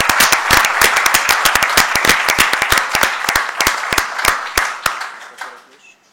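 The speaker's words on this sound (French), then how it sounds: "je souhaiterais vraiment un applaudissement collectif pour cette performance qui est absolument exceptionnelle" Collective applause breaks out at a stock-exchange first-listing ceremony for the company Disty Technologies, a loud burst of sharp individual claps that thins into scattered strokes and fades away near the end.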